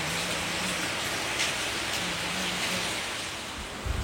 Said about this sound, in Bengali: বাইরের বৃষ্টি হচ্ছে